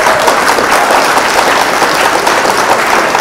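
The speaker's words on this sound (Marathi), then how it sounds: "सगळे टाळ्या वाजवतात" Steady, dense applause from a crowd at a night-time swimming finish line in Dharamtar, loud and continuous with no pauses.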